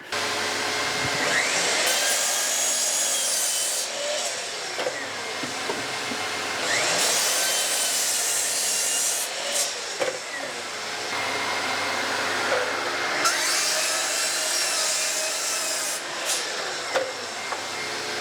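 A power saw cuts through wooden boards in repeated passes, a loud whining buzz rising and falling with brief pauses between cuts.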